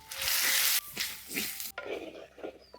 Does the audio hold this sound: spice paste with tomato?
yes